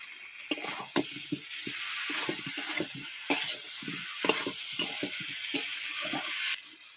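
Fried potatoes sizzle in a pan while a utensil scrapes and stirs them in quick, irregular strokes, close and clear, in a dum aloo preparation.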